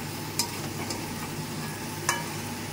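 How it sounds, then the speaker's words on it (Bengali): Chicken with salt, sugar and chili powder stir-fries in a full wok on high flame, giving a soft, continuous sizzle with a couple of sharp utensil scrapes and clicks, fairly quiet and free of speech. "এবার আমি এর মধ্যে নুন, চিনি, গুঁড়ো লঙ্কা দিয়ে একটু কষিয়ে নেব"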